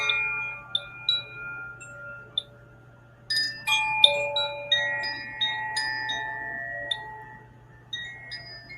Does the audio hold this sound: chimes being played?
yes